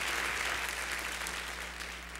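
An audience in a church service claps to welcome a pair of Free Methodist missionaries, a steady wash of applause throughout, moderately loud and fairly even.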